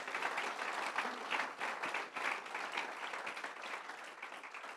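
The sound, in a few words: audience applause and acclaim for God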